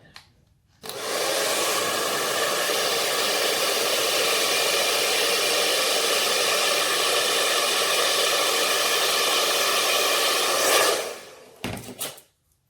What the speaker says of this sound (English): in the right hand I have my hair dryer